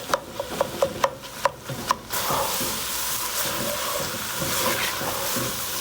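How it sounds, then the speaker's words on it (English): Ground beef being broken up with a spoon in a pot for chili: a few sharp scraping clicks at first, then steady close rubbing and sizzling scrape with no talk. "Next, you'll add 1 pound of ground beef. Break it up with your spoon."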